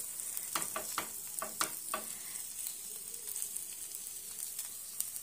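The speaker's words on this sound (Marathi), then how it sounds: "तव्यावर अशा प्रकारे आपल्याला हे पाव शेकून घ्यायचं आहे" Pav buns toasting on a griddle with a little bhaji, a steady close sizzle with a series of sharp clicking taps of a spatula early on, then an even hiss.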